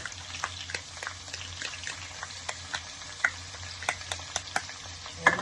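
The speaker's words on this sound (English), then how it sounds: "Saute this till it's nice and translucent" Ginger and garlic sautéing in a pan make a quiet, continuous sizzle while a utensil taps and scrapes at irregular intervals, with no one talking.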